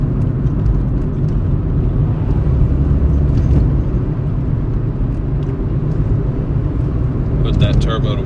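A Subaru WRX's turbocharged engine accelerates with a deep, steady rumble from inside the car, while people talk and laugh over it.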